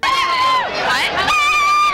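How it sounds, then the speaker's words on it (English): Night street crowd cheering and yelling loudly, a continuous wash of high excited voices with whistle-like shouts rising and falling over two seconds. "The cheering."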